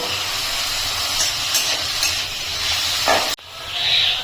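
Onions fry in hot oil in a pan with a steady broad hiss and crackle that cuts off abruptly, then returns more softly.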